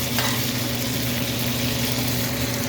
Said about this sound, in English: put the garlic right on top and then baste it